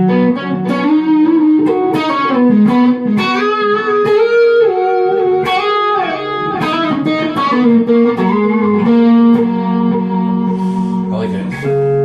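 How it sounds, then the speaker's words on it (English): An Agile AL2000 2TS Les Paul-style electric guitar with a Floyd Rose tremolo is played through a clean tone, ringing single notes and chords in a flowing melodic line, close and fairly loud, with no talk. "Let's just see how the clean tones on this thing sound right now."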